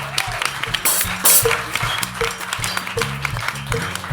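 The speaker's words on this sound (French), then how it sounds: "Vous avez raison d'applaudir" An audience claps at an artists' collective event, a dense round of applause close by with a few louder hand strikes and a low musical or tonal bed underneath.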